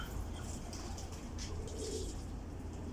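Breeder pigeons coo softly and repeatedly in a loft, their low calls set against a steady, dense background hiss.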